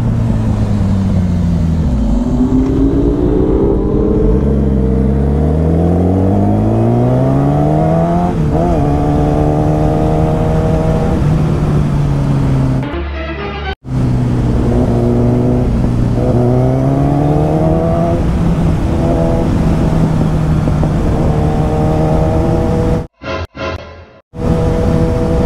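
A sport motorcycle, a BMW S1000RR or Kawasaki Ninja ZX-10R, revs hard in first and second gear on winding mountain roads, its engine note climbing and dropping through repeated shifts, loud and close, with two brief drops in sound.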